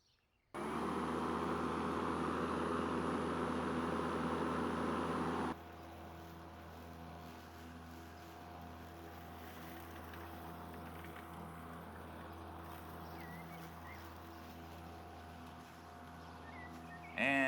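A Makita XML03 cordless lawn mower runs from about 12 feet away, a steady motor whir that drops to a quieter, lower-energy hum partway through.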